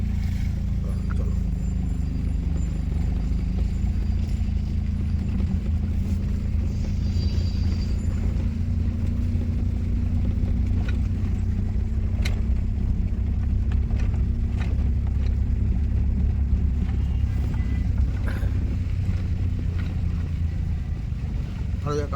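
A car engine rumbles steadily as a learner driver releases the clutch in second gear, a low continuous drone beneath a man giving instructions.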